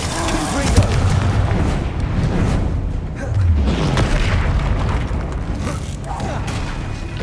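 Confringo fire spell explosions in the Hogwarts Legacy game: repeated booming blasts and crackling bursts layered over busy combat noise, loud and close, with a shouted voice partly under the effects.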